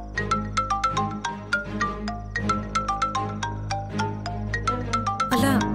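A mobile phone ringtone plays a bright, repeating chime melody in a steady rhythm for several seconds, loud and close, with a brief noisy burst at the end.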